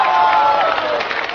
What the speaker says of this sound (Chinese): 那就用掌声恭喜他们吧